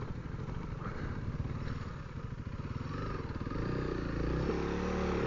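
A Honda CRF300L dual sport motorcycle churns through soft desert sand in Arizona, its engine a continuous low throbbing drone that rises slightly toward the end, recorded close and loud with wind rush.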